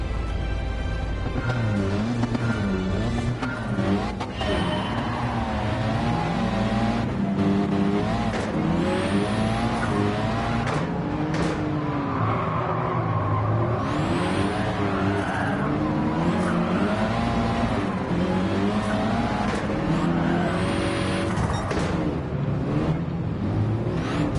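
Race cars on a dirt track in Gran Turismo 7 roar continuously, engines revving up and down through gear changes with occasional tire skids, loud and close throughout.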